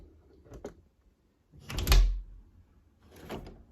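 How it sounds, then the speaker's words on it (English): A door fitted with a satin nickel passage lever is worked close by: a light click, then a solid thud as it shuts, followed by a softer latch rattle as it opens, all without speech. "our door closes just how we'd expect. And it opens that way too."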